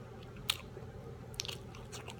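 Crunchy Johnsonville bacon jerky is bitten with a sharp crisp snap, then chewed with a second softer crunch and quiet mastication close to the mic, without talk.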